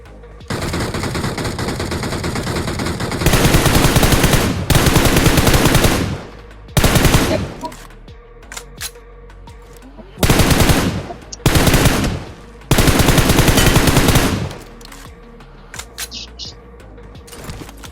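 Bursts of automatic gunfire in BGMI (PUBG Mobile) gameplay near a teleporter, several long loud volleys separated by short pauses, with a few sparse single shots toward the end.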